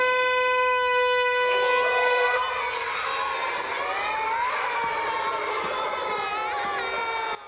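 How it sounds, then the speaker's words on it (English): A loud, steady air horn blast for about two seconds, then a crowd of voices shouting and reacting with the horn sounding on underneath. "he gets in trouble for making the kids cry with an air horn"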